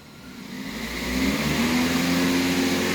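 A car engine revs under throttle during an air-fuel sensor test, rising from a low idle into a sustained mid-pitched rev, close and loud.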